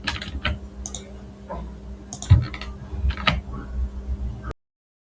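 Keyboard typing a short bio for a new Facebook page, irregular clicks and taps over a low background hum, ending abruptly in silence.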